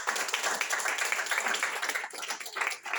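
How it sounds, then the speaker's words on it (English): An audience at a probiotic training event claps for a guest, a steady, fairly soft patter of many hands throughout, with no one speaking over it. "Will you give a big clap to David?"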